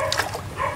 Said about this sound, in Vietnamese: Để cái chó nó sủa luôn kìa.